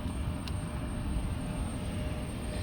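A JetBlue airliner doing a touch and go at an airport, heard as a steady, distant engine roar that holds evenly throughout with no talking.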